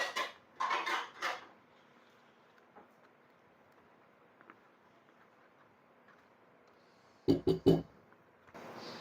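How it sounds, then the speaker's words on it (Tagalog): Cake batter being mixed with pandan juice in a bowl, a utensil clinking and scraping against the bowl in two short, close bursts separated by a long quiet stretch. "Mix lang po natin hanggang sa mag-blend sila."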